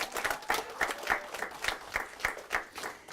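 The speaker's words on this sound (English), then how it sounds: "Big round of applause." An audience at a school social studies scholars event claps, distinct separate handclaps landing in a loose, fairly regular rhythm, moderately close and without speech.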